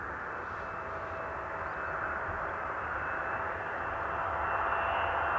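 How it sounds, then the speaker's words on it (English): A 13-year-old Boeing 777 freighter from Guangzhou arrives at Amsterdam Schiphol on runway 18R. Its jet engines make a steady, broad roar that swells slightly as the aircraft approaches. "So it's 777 freighter,"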